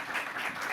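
Brief burst of audience applause for a speaker at a healthcare cybersecurity summit panel, a dense even wash of clapping from a room full of people.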